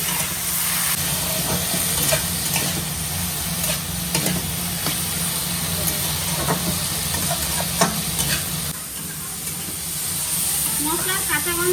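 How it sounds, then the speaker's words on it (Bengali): Pumpkin greens and stalks stirred in a hot pan, a steady sizzle and hiss with repeated scraping strokes of a spatula throughout, while a person talks faintly over the cooking. "তাই একটু নেড়ে দেবো।"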